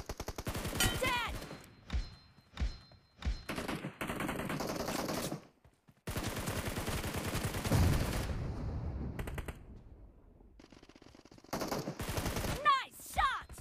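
Rapid bursts of automatic gunfire from BGMI mobile battle-royale gameplay in a team domination match, loud and close, coming in repeated volleys with short pauses, sustained stretches of shooting and a few single shots near the end.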